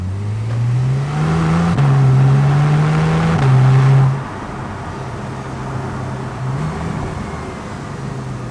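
A Porsche 911 Turbo (991.1) with a 3.8-liter twin-turbo engine revs up hard several times, its deep rumble rising and falling, then settles into a steady idle.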